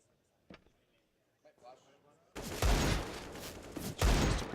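Gunfire in the video game CS:GO as a player pre-fires a box corner: a burst of loud rapid shots after a few faint clicks, with a second burst following, under a commentator's voice.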